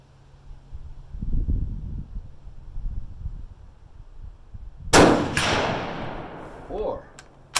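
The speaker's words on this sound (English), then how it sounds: "I gotta fire just a couple more shots here." Single loud gunshot from a Berthier carbine firing an 8mm Lebel cartridge outdoors, a sharp blast followed by a long decaying echo, with low talking and rustling before it.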